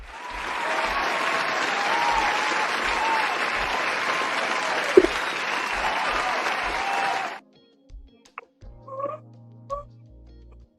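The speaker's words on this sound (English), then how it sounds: "No, I will still give you an applause." Audience applause, a dense steady wash of clapping lasting about seven seconds, then cutting off abruptly into quiet with a few faint sounds.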